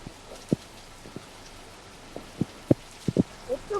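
Rain begins falling, with scattered individual drops tapping sharply on a surface against a steady faint hiss, a handful of distinct close hits over a few seconds.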